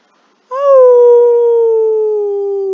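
A single long dog howl, loud and close, rising briefly then holding a steady, slowly falling pitch for about two seconds with no other sounds.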